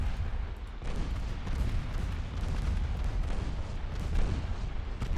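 Torpedo hits exploding against warships in a naval combat game, a dense, continuous roar of booming blasts and rumbling gunfire-like detonations, loud and sustained throughout with no pauses.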